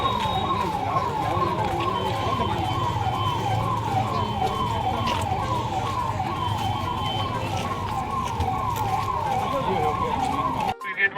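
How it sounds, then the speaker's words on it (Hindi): A wailing siren at a fire mock drill cycles rapidly up and down, loud and steady, over background rumble and faint voices, cutting off abruptly at the end. "सायरन भी बजाएंगे।"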